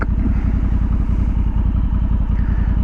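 A Honda Africa Twin DCT CRF1100L idles in neutral, its parallel-twin engine thumping in a steady, even low pulse, close and loud with no talk over it.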